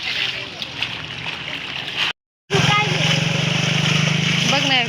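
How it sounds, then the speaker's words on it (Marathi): Steady splashing and sloshing of floodwater covering a road after torrential rain, briefly cut to silence midway, with a person speaking over the rushing water. "बघा, रस्त्याला पाणी आहे, रस्त्याला."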